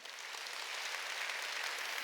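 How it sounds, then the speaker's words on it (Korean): A church congregation applauding during a Sunday worship service, a steady even wash of clapping hands that holds for about two seconds, moderately distant and fairly quiet. "박수 쳐줘요"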